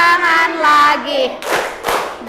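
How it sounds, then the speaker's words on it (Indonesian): Children clap in rhythmic bursts during a sung classroom action song, a few sharp claps landing between phrases of a teacher's singing voice. "Tepuk tangan lagi."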